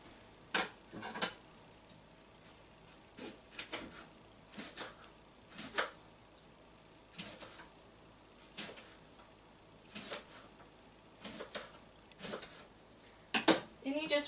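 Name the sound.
knife chopping rhubarb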